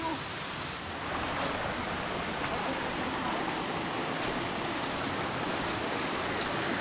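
A waterfall seen from its top, a loud, steady broadband rush of falling water that fills the clip and swells slightly after the first second.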